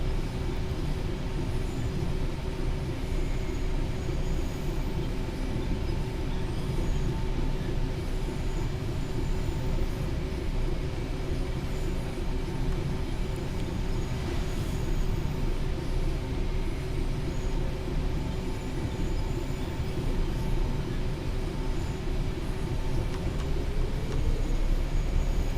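Train running in Train Sim World 4 on the East Coast Main Line between Peterborough and Doncaster, a steady continuous engine drone and rolling rumble that holds at even loudness with a faint rising whine near the end.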